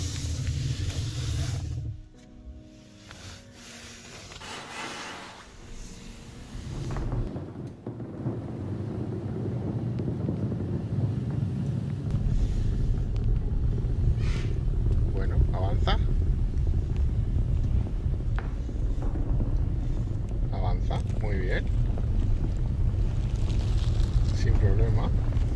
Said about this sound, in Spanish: Ya está subiendo el coche.